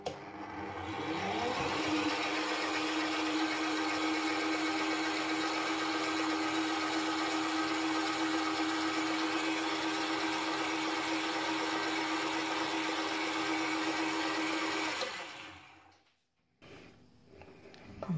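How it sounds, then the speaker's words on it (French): An electric whisk beats a white chocolate and mascarpone ganache in steady, loud continuous whirring for about fifteen seconds, then cuts off abruptly. "Je vais fouetter encore pour introduire la seconde partie."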